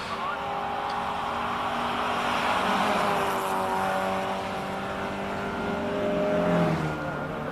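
A Fiat 131 Abarth rally car climbs the Simola hillclimb, its engine holding a steady, loud note that rises and eases through gear changes, with faint crowd and commentary voices underneath.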